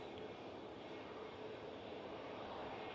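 An Embraer E2 airliner on approach to land at Manchester Airport, a steady faint broadband engine roar held evenly from a distance.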